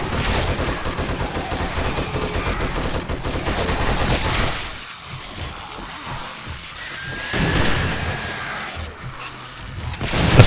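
Bursts of rapid video game gunfire on a Da Okole Server match set in the County of Maui, loud and close, broken by a brief lull before the shooting resumes.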